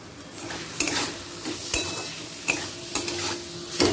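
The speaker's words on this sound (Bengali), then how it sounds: "দিয়ে আবারও মিশিয়ে নিলাম সবজির সাথে" Vegetables with turmeric and salt are stirred in a frying pan, a continuous sizzle punctuated by regular sharp scrapes of the spatula against the pan, close and with no talking.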